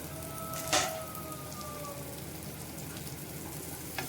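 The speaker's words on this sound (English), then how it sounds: "Let this saute. Now this has browned well." Onion sautés in a pan for tomato chutney, a steady soft sizzle with a brief clatter of stirring early on and a faint tap near the end.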